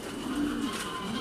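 A pigeon gives a single soft, low coo near a nest at a pigeon loft. It is faint and brief over quiet background noise.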